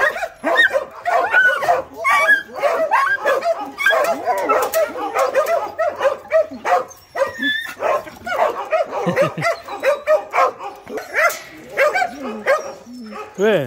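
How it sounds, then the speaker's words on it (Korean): Several dogs bark and yip in quick, overlapping bursts, with some whimpering, close by, while a person repeatedly tells them to stop over the din. "아우, 짖지 마라. 짖지 마라."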